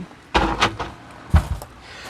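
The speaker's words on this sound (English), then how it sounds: "made a door, so that'll just pull right out." Homemade reclaimed-wood crawl space door being pulled out in an unfinished basement: a few close wooden knocks and scrapes, two bursts early and two more a second later, with quiet between.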